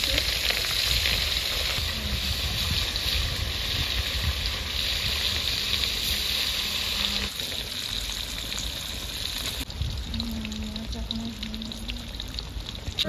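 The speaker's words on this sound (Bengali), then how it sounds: "মাছটা ফেলে দিচ্ছি, তেল গরম হয়ে গেছে" Fish sizzles steadily in hot oil on a village kitchen stove, a loud, continuous crackling fry that runs throughout with small bubbling shifts and no talk.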